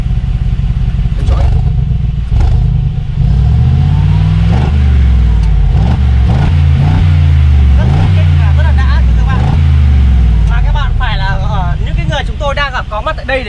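A 2021 Mercedes AMG G63 engine revving through its exhaust, rising and falling throaty pulls close by, loud and steady, while people talk over the engine throughout.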